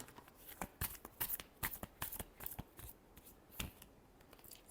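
Tarot cards are shuffled close by in a quiet room, giving soft, crisp riffling and slapping bursts in quick irregular succession, faint overall, with no voices.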